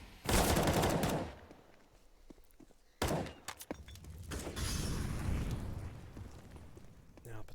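CS:GO firefight gunfire rings out in bursts: a loud opening volley, then a sharp single shot and scattered cracks, with a caster's voice running underneath.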